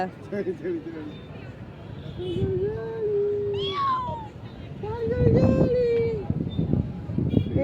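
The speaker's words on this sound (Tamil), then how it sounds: "மியாவ் குட்டி எங்க" A kitten gives several drawn-out meows, a couple faint and two louder, close by, with people chatting in the background on a family trip.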